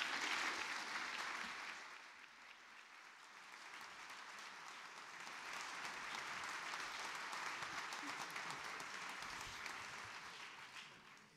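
A room full of attendees at a 2024 New Year's greetings ceremony applauds continuously as Bertrand Ringot is welcomed. The clapping is steady and even, with a dense wash of hands that holds for over ten seconds at a fairly quiet level.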